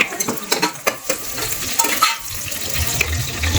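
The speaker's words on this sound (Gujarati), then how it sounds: "ઘી ગરમ થાય છે પછી આ મરચાં નાખી દેવાના" Green chillies sizzling in hot ghee for winter bajra khichdo, a close crackling fry with stirring clatter and ladle taps against the pot.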